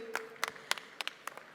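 An audience at a stage event claps briefly for guests: a short, fairly faint patter of scattered hand claps, with a sustained tone underneath.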